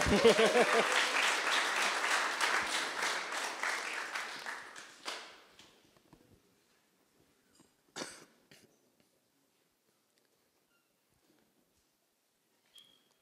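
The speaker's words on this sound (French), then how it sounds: "vous pouvez applaudir" Applause from an audience at a Paris coding bootcamp demo day, a burst of many hands clapping that fades out over about five seconds, followed by near silence with a cough or two.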